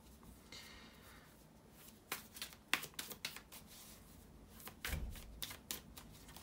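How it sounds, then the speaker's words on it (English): Tarot cards being shuffled by hand, soft riffling and flicking bursts in uneven clusters, faint and close, with no talking. "here to shuffle the tarot cards"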